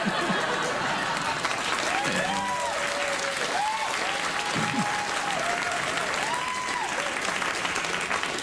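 Late-night television studio audience applauding continuously, a loud sustained roar of clapping with some cheering voices rising through it.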